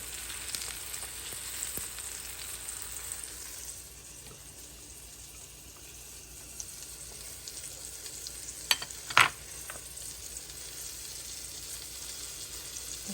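Steady sizzling of breaded chicken frying in a pan, a broad hiss that dips slightly midway, with a couple of brief sharper crackles near the end.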